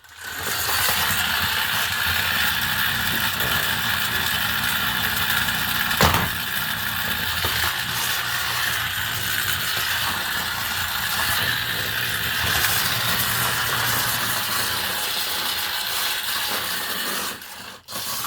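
Modified Hexbug battlebot Cobalt running, a continuous buzzing, rattling small-motor whir close up that holds steady for most of the clip before cutting off near the end.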